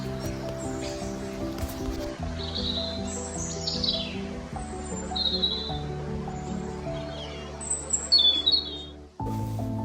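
A great tit calls in woodland with high, thin chirps and short whistled phrases scattered above a steady low hum, and a sharp break comes near the end.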